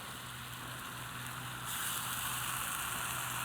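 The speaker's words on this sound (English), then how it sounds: "Let it all simmer a little bit." Pork and roasted apples simmer in soy sauce in a pan, giving a steady close sizzle and bubbling that grows slightly louder partway through, with no talking.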